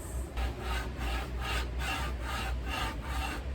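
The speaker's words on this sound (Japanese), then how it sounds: "金属と金属を擦れ合わしてる 感じなんですけど" Rhythmic scraping and grinding of metal rubbed against metal, about eight strokes, close and steady with a low hum underneath.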